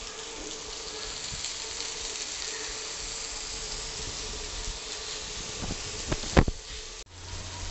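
Bombay duck and mandeli fish fry in oil on a flat iron pan over a medium flame, a faint, steady, close sizzle with a few soft clicks near the end.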